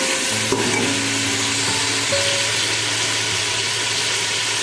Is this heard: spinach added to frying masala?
yes